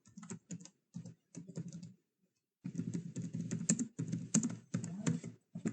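Typing on a computer keyboard while searching for a YouTube video inside Microsoft Teams: close, brisk bursts of key taps with a brief pause, then a longer steady run of keystrokes.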